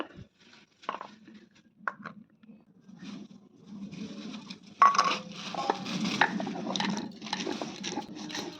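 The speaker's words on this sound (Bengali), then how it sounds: "আমি শিলটা পেতে নিয়েছি তো এই যে ডাঁটাটা করার জন্য একটু সর্ষে আর পোস্ত বেটে নেব" Mustard and poppy seeds are ground on a flat grinding stone with a stone roller, starting with a few quiet knocks and then turning into continuous rough, rhythmic scraping up close.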